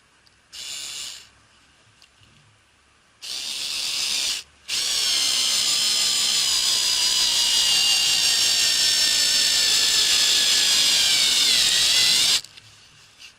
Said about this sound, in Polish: teraz sprawdzimy właśnie jak sobie poradzi we wkręcaniu takich oto wkrętów